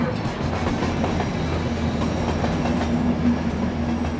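A train pulls away from a station platform on a British East Coast line, producing a steady, loud rolling rumble with a sustained low hum and faint rail clatter throughout.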